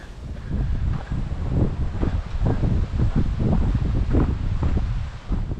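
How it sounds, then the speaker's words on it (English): Wind gusts on a coastal beach walk along the Bass Coast, a dense, continuous low rumble of buffeting against the microphone, loud and close, with rustling underneath and no speech. "Suddenly I've got this cool breeze blowing in."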